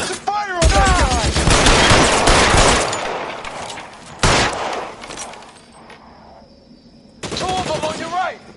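Video game gunfire in L.A. Noire: dense bursts of machine-gun and pistol shots, loud and close, come in waves with quieter gaps, while characters shout over the shooting.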